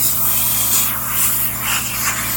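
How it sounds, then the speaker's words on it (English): Black Rust-Oleum paint sprayed from a rattle can onto the hood hinges of a 1975 Chevy C10, a loud, close, continuous hiss rising and falling in short bursts. "We went ahead and used the Rattle Can Rust-Oleum Black spray paint just to get that nice glossy coat."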